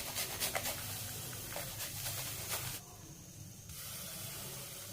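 Garlic cloves rasp against a kitchen grater while ginger-laced cooking is under way, giving a series of quick scratchy strokes up close that fade to a quieter hiss partway through.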